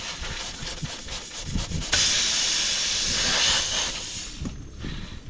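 A loud, sharp rush of air escaping a tire as a plug insertion tool is pulled out hisses steadily for a few seconds after some handling noises, then cuts off abruptly, close up.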